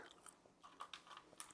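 Crunchy bites while eating, several crisp, close crunches and chewing clicks at an irregular rhythm, quiet overall with no talking.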